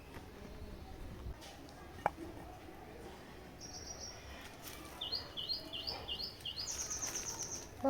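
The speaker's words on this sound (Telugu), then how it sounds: "పిట్ట సౌండ్ ఎంత మంచిగా వినబడుతుంది" Birds chirp outdoors in faint, rapid bursts of high twittering notes that repeat over several seconds, with a soft background hiss and a single sharp click earlier.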